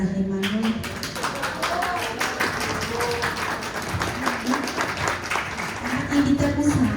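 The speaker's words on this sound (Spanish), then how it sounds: "Fuerte el aplauso para Emanuel." Steady crowd applause fills a conference hall at the Casa Museo Gonzalo Carrasco anniversary event, continuous clapping running throughout while a speaker's voice talks over it.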